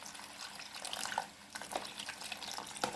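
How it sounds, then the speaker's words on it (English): Water trickles into cornstarch in a bowl and is stirred to make a slurry for Jamaican steamed fish, giving a steady close splashing, liquid sound with a few brief clinks, and no voices. "Adding a little water, and you want to mix."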